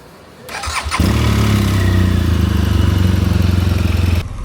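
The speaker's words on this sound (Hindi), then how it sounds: "चलें जी बाइक को कोल्ड स्टार्ट करते हैं" A motorcycle cold starts with a short cranking rattle, then the engine catches and settles into a loud, steady, close idle with an even low throb that runs for several seconds before dropping slightly at the end.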